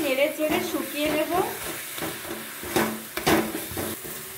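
Jaggery sandesh filling made with nolen gur is stirred and dried in a pan, giving soft scraping and light sizzling with intermittent spoon knocks against the metal, close and moderately loud, with brief voice sounds.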